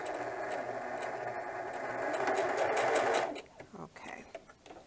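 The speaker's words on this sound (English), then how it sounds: "Right up to the edge, I'm just tacking that on, the elastic." A sewing machine runs steadily for about three seconds, tacking elastic onto the edge of a diaper bag tote, then stops. Scattered handling noises follow.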